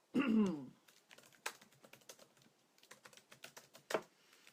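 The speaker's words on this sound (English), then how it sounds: "Typing it up." Rapid, irregular clicking of keys on a computer keyboard, fairly close, preceded by a short louder thump at the start.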